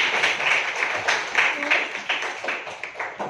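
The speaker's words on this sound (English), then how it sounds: "Clap hand for Deep." Classroom applause for a student during a quiz competition, several children clapping in quick, uneven bursts that fade and pick up again, close and fairly loud.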